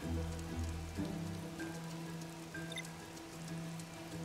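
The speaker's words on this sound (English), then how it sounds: "That's a ripping motherfucking rain." Heavy rain in the Bee Movie video game on the Wii, a steady dense patter of drops on surfaces running throughout beneath a low game hum, with no talking.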